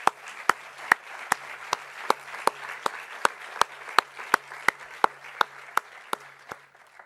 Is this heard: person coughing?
no